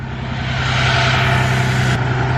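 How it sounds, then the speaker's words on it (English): A salvaged, totaled Mercedes V12, bought as a non-runner after sitting three months, idles smoothly and steadily with a close, even hum and no voices. "It's literally running. It's purring like a kitten."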